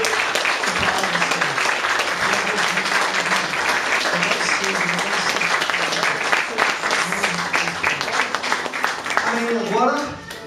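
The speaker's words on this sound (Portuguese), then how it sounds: "E vamos aplaudir essa palavra" A church congregation applauding after a sermon reading, sustained loud clapping throughout, with a preacher's voice talking over it and the applause tapering off near the end.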